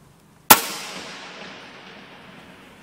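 A single sharp shot from a Hatsan BT65 Elite PCP air rifle fired at a brick target about 25 metres away, a loud crack that fades into a short ringing decay, with no talk.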